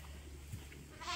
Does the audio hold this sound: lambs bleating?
yes